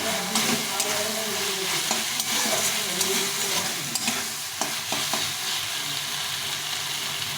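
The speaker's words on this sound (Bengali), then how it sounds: "এখন এটাকে একটু কষিয়ে নেব" Spices sizzle and fry in a pan for sabudana khichdi, with a spoon stirring and scraping at irregular intervals over a constant close hiss.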